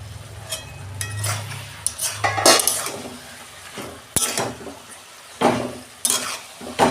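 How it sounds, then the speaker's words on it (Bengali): A pot lid lifted off a simmering fish-head and cabbage dish, a few sharp metallic clinks and knocks of lid and utensils over a low sizzle, no voices. "ঢাকনা খুলছি"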